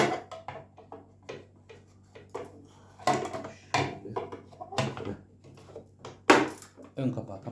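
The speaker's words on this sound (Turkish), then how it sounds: "Ön kapağı kapatıyorsunuz" The front cover of a Singer Promise 1412 sewing machine is shut, giving several close, sharp plastic clicks and clunks spaced among the handling. A person talks throughout.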